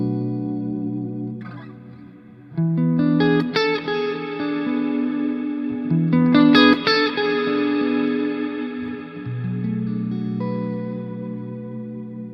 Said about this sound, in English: Now that's a really nice sounding reverb